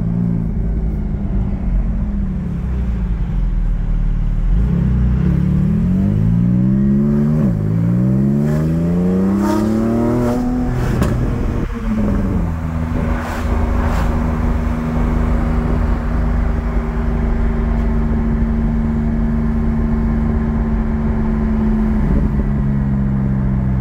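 A yellow Porsche Cayman 718 GT4 on test pulls away in low gear, its engine revving up through rising sweeps, dropping between gear changes, then holding a loud, steady drone close by.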